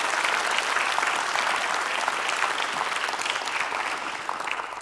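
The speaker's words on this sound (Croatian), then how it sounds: "poželjeli mu sretan rođendan i velikim pljeskom" Big audience applause for a hotel's 100th birthday at a Miss Universe Croatia pageant, dense and steady clapping that holds loud throughout and eases slightly toward the end.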